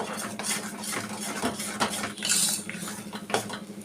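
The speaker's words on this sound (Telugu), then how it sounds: "నెయ్యి పోసుకొని తిప్పుతూ ఉండాలి." Ragi mash cooked with ghee is stirred in a pot, with a spoon scraping and clinking against the vessel in uneven strokes, close and fairly quiet, with no voices.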